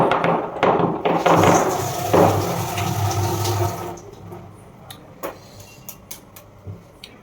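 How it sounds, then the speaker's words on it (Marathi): Lemongrass stalks are rinsed under a running kitchen tap, a steady splashing gush for about four seconds that then cuts off, followed by scattered soft drips and clicks. "गवती चहाच्या काड्या आपण धुवून चहामध्ये टाकूयात तर आता मी हे वॉश करते आधी"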